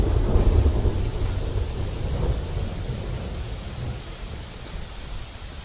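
Steady rain in a video game pours with a low rumble of thunder, strongest at the start and gradually fading, no voices.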